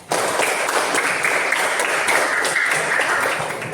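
Students clapping together in a junior high school classroom, a loud, dense burst of applause that starts abruptly and holds steady before tapering slightly at the end.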